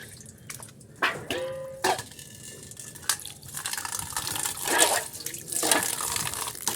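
Flattened rice (chira) is washed in water by hand, giving irregular splashes, drips and swishing bursts at close range, some louder than others, with no talking.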